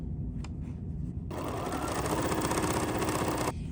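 An embroidery machine stitches an embroidery sampler block, starting after a low hum with a loud, steady, fast mechanical whirring drone that runs a couple of seconds and then cuts off.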